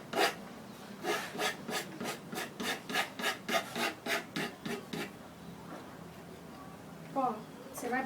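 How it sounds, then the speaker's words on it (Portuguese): Rhythmic rasping of sandpaper rubbed up and down on a wooden piece for decoupage, about a dozen even strokes close up, then a pause as someone speaks. "Você vai vir com a lixa de cima para baixo"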